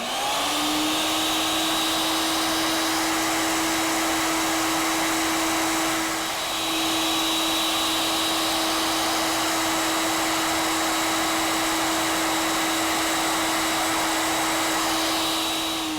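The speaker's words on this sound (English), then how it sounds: "One is I have to machine the counter bores in those holes" A ShopSabre CNC router machining counterbores into a banjo neck runs with a loud, steady high-pitched whine and airy roar, nearly unbroken apart from a brief dip partway through, with no voices.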